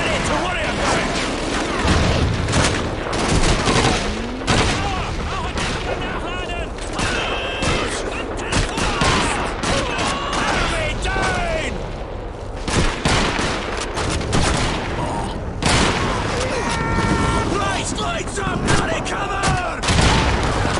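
Gunfire and explosions fill a World War II battle in the video game Call of Duty 2: rapid bursts of rifle and machine-gun fire and booms crowd the scene continuously, loud and close, with a voice talking over the combat.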